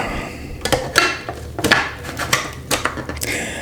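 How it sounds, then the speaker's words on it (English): A metal lid settles onto a pot of homemade pizza sauce with basil, producing a series of close, bright clanks and rattles spread over a few seconds. "And then we'll put the lid on."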